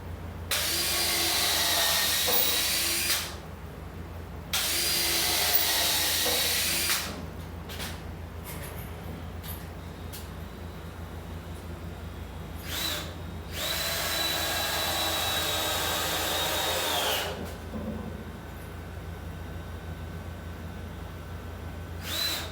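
A power drill sinks screws into a wooden aquarium rack in a fishroom, giving several sustained whirring runs separated by quieter gaps filled with faint handling clicks.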